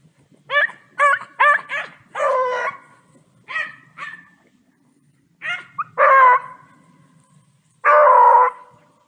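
Hunting dogs on a rabbit hunt bark and yelp outdoors in uneven bursts: quick clustered barks early, then a few longer, louder baying cries, fairly close and with no talk over them.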